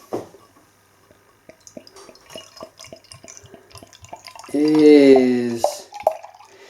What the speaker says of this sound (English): Beer pouring out then.